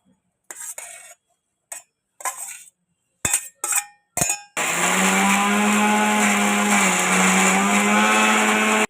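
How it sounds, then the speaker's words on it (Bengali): A few short bursts of an electric mixer grinder, then a long continuous whirring roar as it grinds steamed yard-long beans into a smooth paste in the jar, loud and close with no talk. "মিক্সির জারে নিয়ে নিচ্ছি এবার বেটে নেব আমি ভালো করে"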